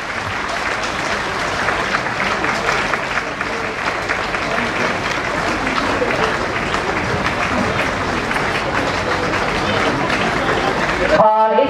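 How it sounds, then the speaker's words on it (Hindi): Loud, steady applause from a crowd at a foundation stone and lamp lighting ceremony, sustained without a break as guests light the lamp, with a few voices mixed into the clapping. "हम लोग तालियां बजाते रहें"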